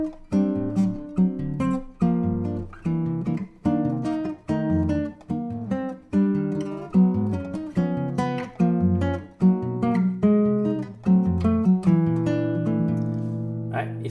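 A plucked guitar plays a syncopated, bouncy samba chord pattern with crisp percussive strums, steady and close, with no talking.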